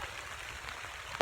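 Rain patters steadily on a hiker's hood on a day hike on a trail near Wayah Bald, a soft, close, continuous drumming with one louder tap at the end.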